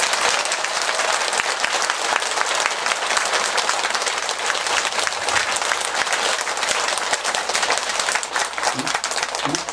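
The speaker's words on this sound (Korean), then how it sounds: "우리 큰 스님과 여기 계시는 두 그죠? 스님들을 위해 가지고 정말 큰 박수 한번 쳐보세요" Sustained, dense applause from a lecture audience honoring the head monk and two monks of a Buddhist temple, loud and steady throughout, with no pauses.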